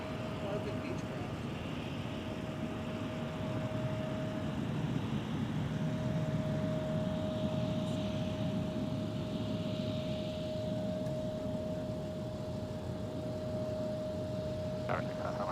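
Beechcraft airplane engine running at Minneapolis–Saint Paul airport, a steady broadband drone with a constant whine holding throughout, moderately distant, with brief voice fragments.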